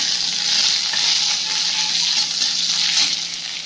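Panch phoron spices, bay leaf and chopped onion frying in hot oil, a loud, steady, hissing sizzle that runs throughout without talk.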